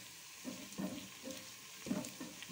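Onions frying in a pan of oil while making mash (urad) dal, with soft sizzling and a few stirring scrapes in irregular bursts, fairly faint and without talk.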